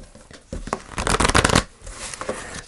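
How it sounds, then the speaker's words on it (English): A deck of tarot cards riffled up close, a few soft taps building into a dense, loud flurry of snapping cards mid-clip, then quieter shuffling. "I'm just going to shuffle the cards, actually."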